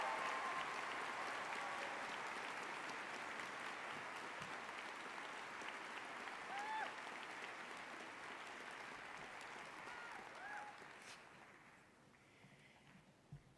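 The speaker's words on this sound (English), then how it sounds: "please join me in recognizing Marissa's success with a round of applause." A crowd at a 2023 high school graduation ceremony applauds a graduate's award. The sustained, distant-sounding clapping holds steady, then tapers off near the end.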